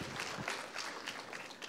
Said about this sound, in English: Round of applause for all of my presenters